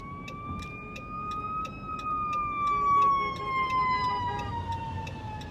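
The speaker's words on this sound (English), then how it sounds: "fire truck." A fire truck siren wails past in the city, a rising and falling tone heard from some distance over faint traffic rumble, with no talk.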